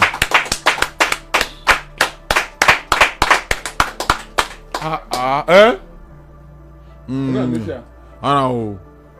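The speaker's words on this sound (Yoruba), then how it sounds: "ẹ bá ń pàtẹ́wọ́ fún wọn" Clapping in steady, evenly spaced bursts for about five seconds, close and distinct, followed by a voice speaking.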